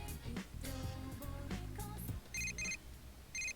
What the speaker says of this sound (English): Beep, beep, beep, beep.